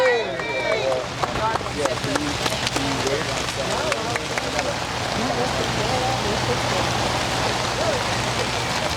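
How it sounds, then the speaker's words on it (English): Rain falls steadily on an outdoor rally, a dense hiss under crowd noise and voices that fade into a constant wash. "Standing out in this rain."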